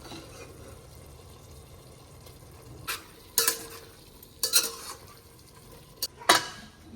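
Paneer cubes frying in a pan hold a low background sizzle, broken by several sharp scraping, clinking stirs of a spoon against metal at irregular intervals.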